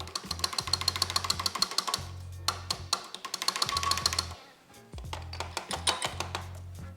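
Sharp metallic taps on the leaking carburettor of a 40-year-old Honda four-wheeler, coming in quick rhythmic bursts with short pauses between groups, close and clear.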